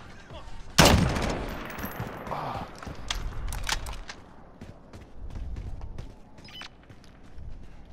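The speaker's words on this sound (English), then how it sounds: "I've shot enough rounds that he knows I'm here." Gunfire in Warzone: a loud close shot followed by a scatter of sharper distant rifle cracks and rapid pops over continuous low background rumble.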